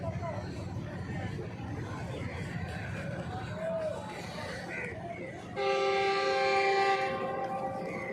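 Millat Express 18 Down standing at platform one of Faisalabad railway station, bound for Karachi from Lala Musa; station bustle and crowd chatter give way to a loud, sustained multi-tone train horn near the end.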